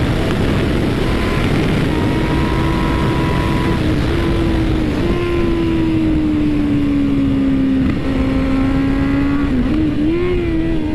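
Honda CB1000 naked motorcycle accelerating hard on a racetrack, a loud sustained engine drone with a steady rising pitch that holds through shifts, continuous and close throughout.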